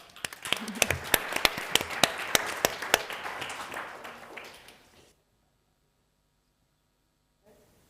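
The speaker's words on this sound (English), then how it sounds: "Welcome, and a hand of applause." Applause from a crowd, loud and dense with sharp individual claps, lasts several seconds then cuts to near silence.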